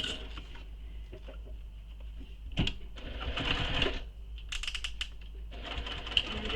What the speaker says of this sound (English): so now we're going to sew across using the seam allowance given in the pattern